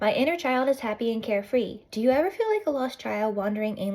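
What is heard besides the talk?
No distinct noise like a dog, phone or traffic.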